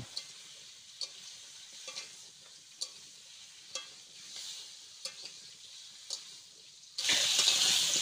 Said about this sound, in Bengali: এবার কচুটা এর ভিতরে ঢেলে দেব।